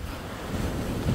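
Strong sea surf rolls onto a beach, a dense, steady roar of breaking waves mixed with heavy wind buffeting the microphone, building slightly louder toward the end.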